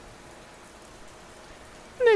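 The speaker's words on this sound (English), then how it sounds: "Only the rain." Steady soft rain falls evenly, a faint continuous patter with no other sound until a brief louder tonal sound breaks in at the very end.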